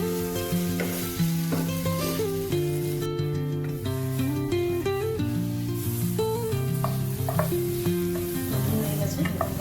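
Eggplant bharta with fresh coriander is stirred and mashed in a hot pan, giving a steady scraping, sizzling churn that runs the whole time over a layer of tonal background music, with no talking.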